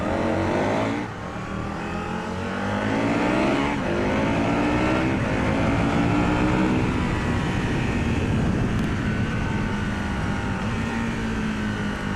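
A 2001 Aprilia RSV Mille R motorcycle engine roars close by, revving and shifting pitch continuously with a harsh, throaty growl and no voices over it.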